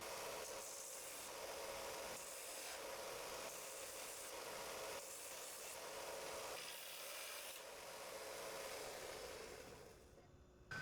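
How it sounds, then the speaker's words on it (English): A horizontal bandsaw cuts a metal crosshead to length for a test machine frame, giving a steady, even rasping hum that holds for about ten seconds before stopping near the end. "I'm using a horizontal bandsaw here"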